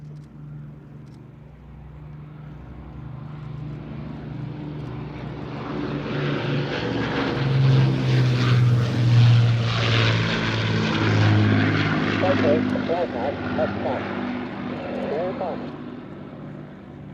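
An Avro Lancaster bomber flies past at an air show display, its propeller engines giving a steady droning roar that swells to a loud peak mid-pass and then eases off, with a voice talking over it.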